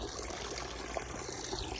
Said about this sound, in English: then you come to this gorgeous waterfall